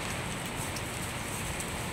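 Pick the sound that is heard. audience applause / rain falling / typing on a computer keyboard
rain falling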